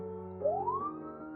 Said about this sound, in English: We awoke to the sounds of sirens